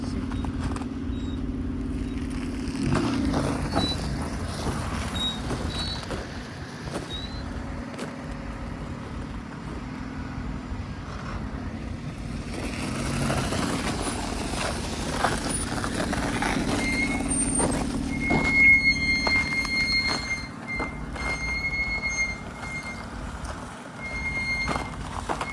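Heavy road traffic with many cars and trucks, a continuous drone of engines and tyres passing at a distance, with occasional hisses, beeps and higher squeals rising above the steady background rumble.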